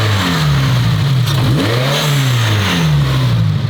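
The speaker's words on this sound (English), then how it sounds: "give it a few revs and see if the blow-off valve actually changes at all" A turbocharged car engine revs up and down in repeated swells, a turbo whine and blow-off valve sound rising with each push of the throttle, loud and close.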